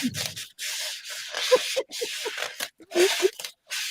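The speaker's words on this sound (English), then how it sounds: "It sounds like you're rubbing two balloons together. Yeah. I'm doing this. I'm cleaning a cup." Squeaky rubbing while a cup is cleaned by hand, a run of short, uneven squeaks and scrubbing strokes close to the mic with brief pauses between them.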